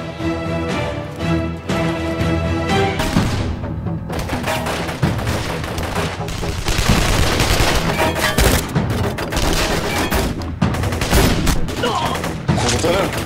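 Dense bursts of automatic gunfire rattle through a TV drama firefight, loud and near, with overlapping volleys and booms continuing almost without pause.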